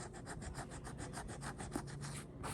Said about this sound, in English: You want to rub fairly hard